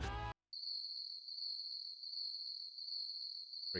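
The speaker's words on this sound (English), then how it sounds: "Crickets." Crickets chirping as an added sound effect, a steady high continuous trill running alone for over three seconds after a brief burst of other sound at the start.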